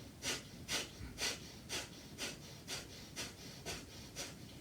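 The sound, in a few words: breath of fire, rapid diaphragmatic breathing through the nostrils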